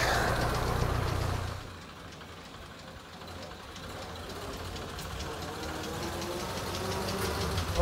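1931 Ford Model A engine idling on a freezing morning, a low, continuous rumble with a faint knocking pulse, preceded by a brief louder burst at the start, steady and moderately close.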